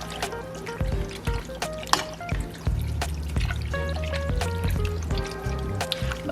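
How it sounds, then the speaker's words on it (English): Melted cheese poured into a pot for creamy seafood mac and cheese, with intermittent glugs, drips and light clinks close by, no talk. "you can melt it first in your microwave and then pour it in."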